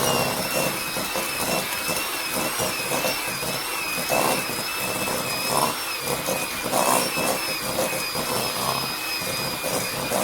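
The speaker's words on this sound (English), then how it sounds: "You want to whisk it until the butter and sugar are mixed together and it's fluffy" An electric mixer whisks butter and sugar for a cherry-flavoured Haitian cake, giving a steady, loud motor whine with a faint rising and falling pitch and soft beating texture throughout, with no voices.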